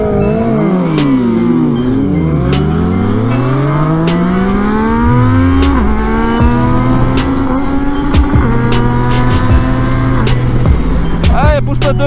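A motorcycle on the Autobahn accelerates hard toward its top speed, the engine note climbing through several gear changes with a steady roar of wind and road noise.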